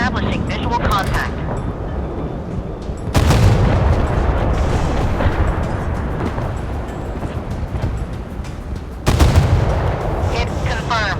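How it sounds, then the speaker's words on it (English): Warship guns fire at an enemy in a naval combat video game, heavy booming blasts that swell into a sustained loud roar, with sharp new bursts at intervals. "Ready to open fire on the enemy."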